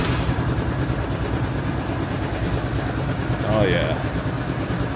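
A Honda Helix scooter idles after a cold start at 1°F with an even, continuous putter, while a voice speaks briefly over it.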